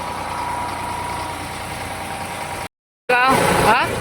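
A tractor engine drones steadily at idle, close and even, then cuts out briefly before returning beneath a voice.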